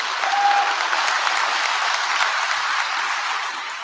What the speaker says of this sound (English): a big round of applause for pronouncing all those names